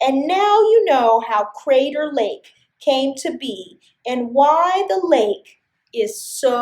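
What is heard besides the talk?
No everyday noises stand out.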